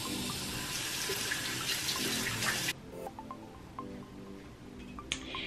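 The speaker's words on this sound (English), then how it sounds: "then you can rinse it off with warm or cool water" Water runs steadily from a bathroom tap during face washing, a continuous hissing splash that stops partway through, leaving scattered drips and small splashes.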